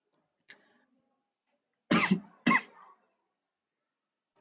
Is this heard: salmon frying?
no